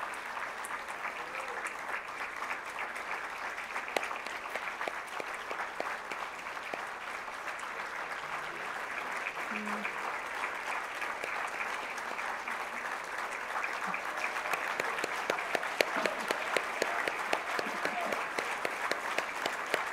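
Sustained audience applause at a conference honoring Korean War veterans, a large hall of steady, dense clapping that runs evenly for the whole stretch and swells slightly toward the end.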